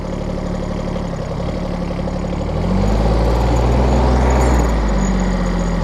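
A Kubota Aste A-14 mini tractor engine chugs steadily nearby, then its pitch and load shift as it pulls away in low first gear, staying loud and continuous.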